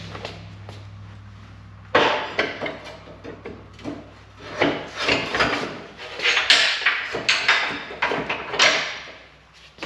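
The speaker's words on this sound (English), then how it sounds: "Just pull this pin out, grab the heavy vise." A hitch pin is pulled and a heavy vise is lifted and set into a welding table receiver, giving close metallic scrapes, clunks and rubbing knocks in an uneven series after a quiet start.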